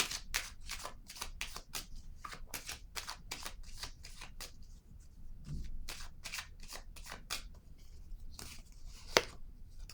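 Tarot cards shuffled and handled in a steady run of crisp riffling snaps and flicks, close and fairly quiet, with a brief sharper tap near the end.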